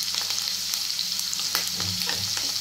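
Ingredients roast lightly in a pan before onion goes in, a continuous close sizzle and crackle with scattered stirring scrapes and small pops throughout, no voice.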